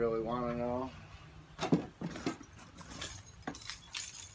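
A bunch of keys from a storage unit jangles in several short metallic bursts at close range, following a brief whistled or sung tone, with people talking over parts of it.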